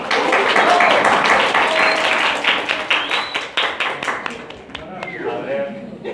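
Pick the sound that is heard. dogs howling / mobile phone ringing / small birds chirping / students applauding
students applauding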